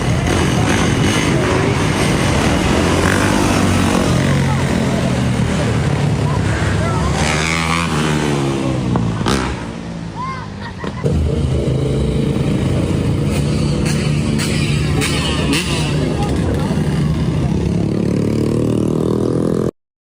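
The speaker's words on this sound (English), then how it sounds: "Cutting in and out of traffic, surrounding vehicles." Motorcycles or cars rev hard and roar while cutting in and out of city traffic in Chicago, a loud continuous engine din with rising and falling pitch, a brief dip in the middle, and voices talking over it.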